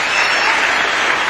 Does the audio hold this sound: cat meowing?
no